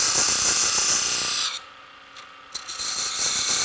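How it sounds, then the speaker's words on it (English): A parting gouge cuts into a spinning wooden ring on a lathe, giving a steady loud scraping hiss that drops away for about a second mid-cut before resuming. "to cut the edge of the next ring, having parted off the first one"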